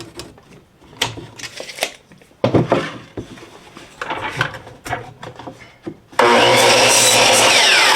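A saw cuts an 11-inch length from a wooden fence picket, with uneven bursts of rasping strokes and clatter before a loud, steady high-pitched power-saw roar takes over near the end.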